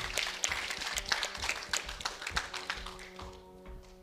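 A crowd claps in a dense, steady patter that slowly thins and fades toward the end.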